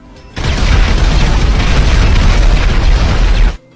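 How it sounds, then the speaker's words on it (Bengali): Sticky bomb blast in a video game, a single loud, sustained booming explosion that rumbles heavily for about three seconds before cutting off sharply. "এখন স্টিকি বম ব্লাস্ট করে দেই"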